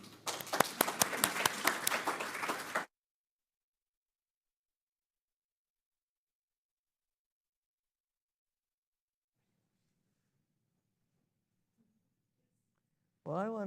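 An audience at a local poetry reading bursts into warm, dense clapping to welcome the poets, loud and close for about three seconds before cutting to silence, with a voice starting at the very end.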